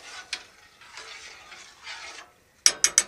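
A spoon stirs a pot of quick faux pho soup, soft scraping swishes in a few strokes followed by three sharp taps against the rim near the end.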